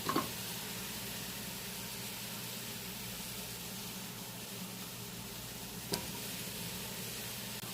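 Onions fry golden brown in oil in a pot, giving a steady, even sizzle with faint hiss throughout and a couple of small clinks. Nearby and continuous, with no talk.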